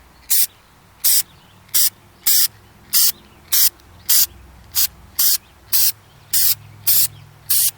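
Looking glass spray paint hissing from a can onto the back of a glass piece in short, sharp bursts, about a dozen evenly spaced sprays of under half a second each, close and loud against quiet room tone.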